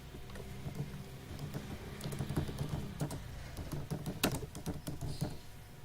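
Light, quick computer keyboard keystrokes come in uneven bursts as a username is typed, soft and close with a faint room hiss and no talking.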